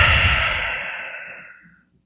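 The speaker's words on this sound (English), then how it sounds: "You're breathing heavily in the mic." A long, heavy breath exhaled close into a microphone, loud at first and slowly fading to silence over about two seconds.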